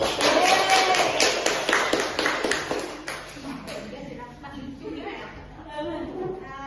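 Classroom of students clapping together for a classmate, a dense burst of hand claps that is loudest at first and thins out after a few seconds, with a teacher's voice and murmuring carrying on underneath.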